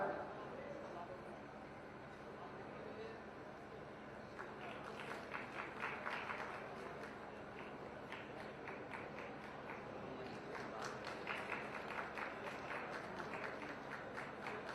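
Audience applause at a public ceremony handing out scheme loan cheques, a faint, distant patter of clapping that rises and falls over many seconds, with some voices mixed in.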